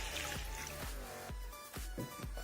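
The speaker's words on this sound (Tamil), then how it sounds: "நம்ம 1 கப்புக்கு தண்ணி ஊற்றிடலாம்" Water being poured into a simmering egg gravy in a pot, soft splashing and gurgling with a series of low bubbling pulses, close and faint.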